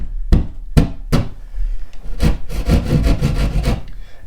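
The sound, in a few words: drywall saw cutting into wall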